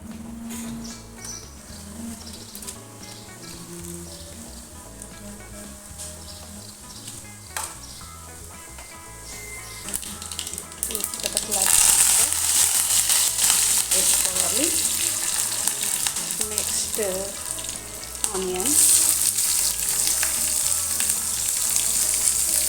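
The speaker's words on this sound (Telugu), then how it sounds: "ఆయిల్ వేడెక్కాక దీంట్లోకి ఆవాలు జీలకర్ర" Mustard seeds and cumin in hot oil, a quiet background at first that turns into a louder, denser sizzle and crackle partway through, with occasional utensil clatter and no talking.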